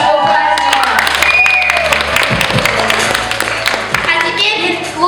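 Audience at a festival gala concert clapping hands together, dense rhythmic clapping with crowd noise and music underneath, fading slightly near the end.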